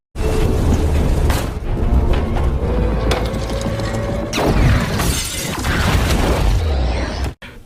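A grenade blast in an action film scene, loud and dense with a sharp crashing burst, shattering debris and rumbling low end, followed by further crashes and clatter before an abrupt cut to silence.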